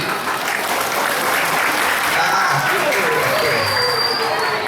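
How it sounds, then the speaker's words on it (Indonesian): Steady, sustained applause from an audience of Islamic boarding school students at a Sundanese sermon, loud and even throughout with no pauses. "Tepuk tangan untuk santri-santri."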